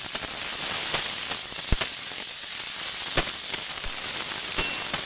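Ridge gourd fries in a little oil with turmeric, giving a loud, steady hiss and sizzle close by, broken by scattered sharp crackles and spatters.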